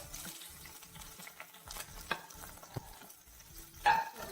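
Ginger and green chilli dropped into hot oil for egg bhurji, a soft crackle and stir with a few louder spits and scrapes near the end, fairly quiet and close, no talk.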